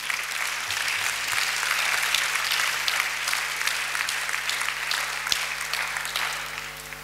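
Applause from a church congregation at a French-language Sunday service, steady and dense throughout, tapering slightly at the end.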